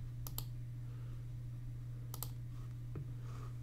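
Computer mouse clicks while working in Autodesk design software: a quick double click early, another double click later and a single click near the end, all crisp and close over a steady low electrical hum.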